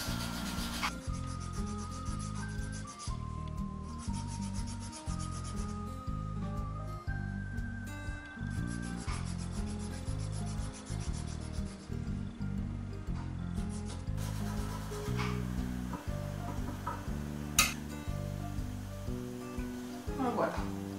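A hand file rasps against a hobby model part in rapid, even back-and-forth strokes, close and continuous.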